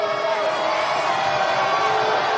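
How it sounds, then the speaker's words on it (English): Crowd noise at a women's college basketball game between Baylor and SMU, a steady, moderately loud roar of cheering filling the arena, with an announcer talking over it. "You can sure hear the crowd"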